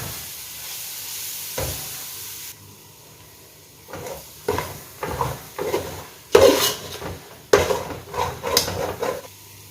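Masala roasting in a pan for Arabian chicken majboos, with a steady low sizzle and a run of scraping stirs that grow louder and more frequent toward the end, with no talking.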